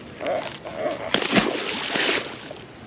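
Common carp released back into the water, a loud close splash and slosh with churning water lasting a couple of seconds, sloshing on before settling.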